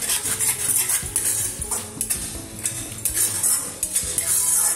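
Palak paneer is stirred and sautéed in a pan over medium flame, a utensil scraping and clinking against the pan in quick repeated strokes over a steady sizzle.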